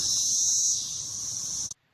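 Male cicadas calling in summer, a loud continuous high buzzing drone that holds steady and then cuts off abruptly near the end.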